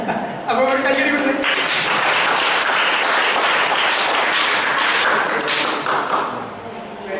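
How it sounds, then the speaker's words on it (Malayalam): Audience applause from a group at an interactive science camp session, a sustained burst of clapping lasting several seconds, loud and close, with some voices mixed in. "അപ്പൊ ഒരു കയ്യടി കൊടുത്ത്."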